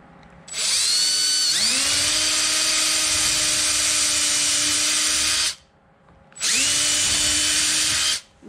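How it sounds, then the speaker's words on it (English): A power drill bores a pilot hole in plexiglass: two loud, close bursts of high whining motor, the first rising in pitch as it spins up and running about five seconds, then a brief pause before a second shorter run. "It has to make like a pilot hole so that the plexiglass doesn't crack."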